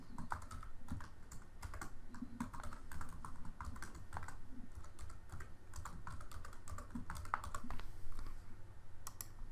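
A username is typed on a computer keyboard, with quick, steady, close key clicks running in a continuous stream with short irregular pauses, quiet, with no voices.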